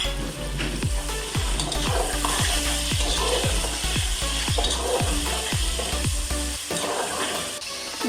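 Bay leaves, cinnamon pieces, cloves and cumin crackle loudly in hot oil, a dense steady sizzle with rhythmic stirring scrapes that ends abruptly near the close.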